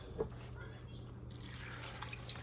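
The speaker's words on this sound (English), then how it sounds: "I'm gonna add some water." Water runs from a tap into a pot holding cinnamon sticks and cloves for a simmered immunity drink, a soft, faint trickle with a small splash near the start.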